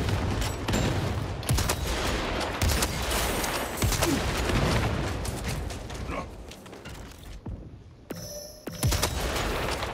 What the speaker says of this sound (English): Deployed crack grenade.